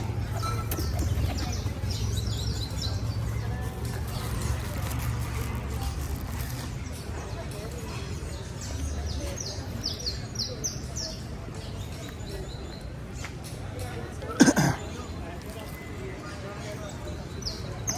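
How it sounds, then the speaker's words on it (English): A bunch of pigeons in a town street in La Vega, Colombia, coo and chirp in scattered bursts against steady outdoor background noise, with a voice nearby. "Bunch of crazy pigeons."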